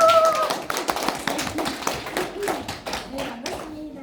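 An audience claps to welcome a speaker to a lecture, a scattered round of hand claps of moderate loudness that thins out over a few seconds.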